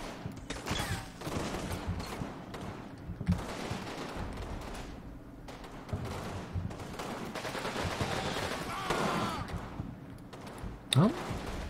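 Sustained rifle, machine-gun and mortar fire from an infantry patrol battle in the wargame Combat Mission Fortress Italy, dense continuous bursts with occasional sharper reports, mixed under intermittent talk.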